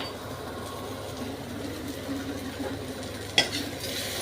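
Bitter gourd frying with flattened rice in a pan, stirred with a steady soft scraping and low sizzle, one brief utensil clink near the end, no talking.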